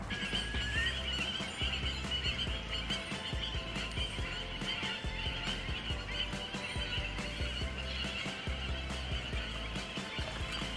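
Birds calling together at a lake at night, a busy, continuous chorus of honking and chattering calls that sounds like geese or other waterfowl, with no talking.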